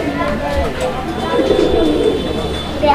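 Pigeons at a breeding seller's loft give low cooing calls close by, under steady background noise and someone talking throughout.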